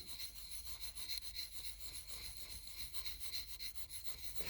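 A knife blade tip ground on a sharpening stone makes a steady, quiet rasping rub with a faint back-and-forth rhythm, close and alone.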